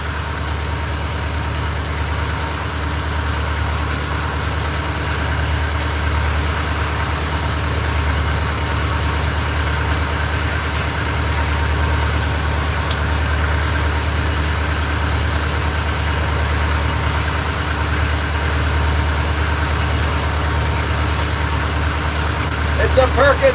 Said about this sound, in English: It's a Perkins 4236.